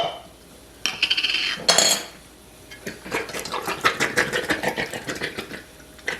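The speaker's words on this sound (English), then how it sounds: "we're gonna start getting these jars" Glass jars are opened in a kitchen, with metal lids clinking and scraping against glass in a few sharp bursts followed by a run of quick rattling clicks.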